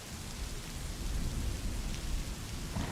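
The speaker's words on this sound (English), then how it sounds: "There is rain now streaming in." Steady rain streams down in a dense, continuous hiss, loud and close, with a deep rumbling low layer like distant thunder and no voices.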